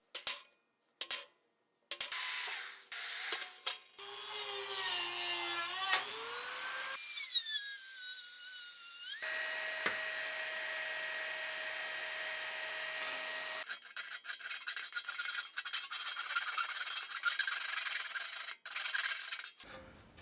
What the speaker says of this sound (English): So we're gonna cut this faceplate out to have a square hole for the PID temp controller to mount in the face.